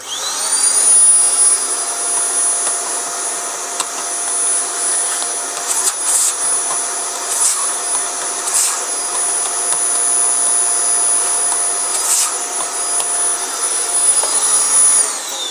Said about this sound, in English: So having taken it apart, again you just need to get your hoover.